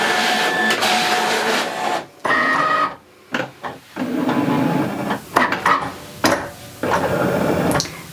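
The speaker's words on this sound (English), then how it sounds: "the Cricut machine is going to read these registration marks and it's going to cut around what I've printed on this printable vinyl" Two Cricut Maker 4 cutting machines whir and buzz mechanically as they scan registration marks on printable vinyl, loud and near, with short pauses and shifting motor tones.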